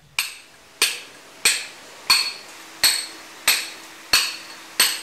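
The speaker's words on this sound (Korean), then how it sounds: "돌 쪼는 소리의 주인공" A master stonemason at a stone-working complex on Seongjusan in Ungcheon strikes a chisel into stone with a hammer: eight sharp, ringing metallic taps at a steady, even pace, close by, with no talk.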